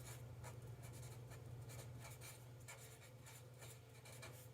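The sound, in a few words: writing with a Sharpie marker on paper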